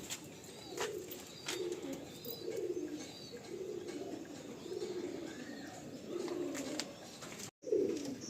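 Madrasi pigeons coo in a repeated, soft rhythmic series, with low throaty calls close by and a faint chirp or two above them.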